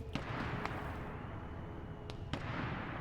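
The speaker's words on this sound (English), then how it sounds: "So you're hearing some sniper rounds going off." Sniper rounds fired in the military video game Arma 3, several sharp distant cracks spaced irregularly over a dense rumbling battlefield background.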